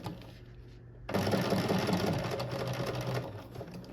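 A sewing machine stitching a hoodie seam, McCall's 8249 pattern, starts after a second of quiet and runs steadily and close, a dense mechanical whir with rapid needle clatter, with a brief back stitch at the end.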